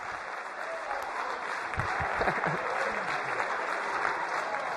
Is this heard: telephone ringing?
no